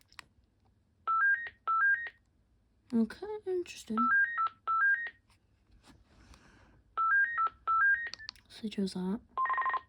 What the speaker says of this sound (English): we'll start with the bass ringtone